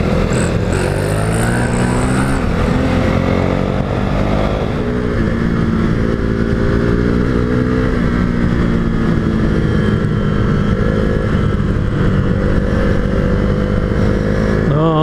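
A motorcycle on TKC70 Rocks 60/40 adventure tires rides along dirt roads, its engine droning loud and continuous with rising and falling pitch as it shifts and accelerates, wind rumble steady throughout.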